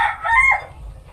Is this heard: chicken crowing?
yes